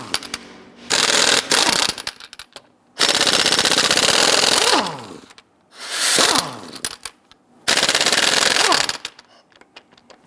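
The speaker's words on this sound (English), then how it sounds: "Using a 22mm socket, loosen and remove the lug nuts." Impact wrench with a 22mm socket loosening the lug nuts on a Jeep Grand Cherokee front wheel, four loud rattling hammering bursts separated by short pauses, close and harsh.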